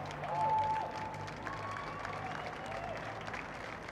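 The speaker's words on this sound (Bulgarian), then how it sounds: "И заслужени аплодисменти още веднъж за" Steady applause from a crowd honouring the winners of a drift competition in Plovdiv, fairly distant and even, with faint background noise and a tone under it.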